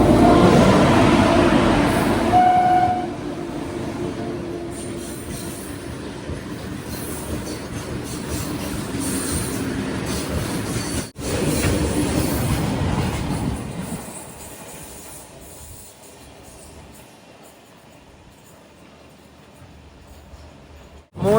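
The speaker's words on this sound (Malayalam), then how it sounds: "WG9 ഒരു ഗുഡ്സ് ട്രെയിനാണ്." A goods train hauled by a WG9 locomotive rolls past on a single-line track, a loud, close rumble with rattling wagons and brief wheel squeal for about fourteen seconds before fading into quiet.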